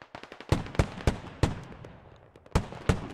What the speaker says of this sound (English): this is Russian artillery on the HAB